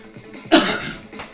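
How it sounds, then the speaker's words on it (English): A single sharp cough from a person at a workout mat, loud and close, with a faint throat sound trailing after. "that cough in your face"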